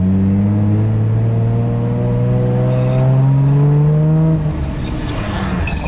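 A Toyota Supra MK4 with a heavy-duty clutch revs hard under acceleration, a loud, steady engine note climbing in pitch through a gear, then easing off with no talking.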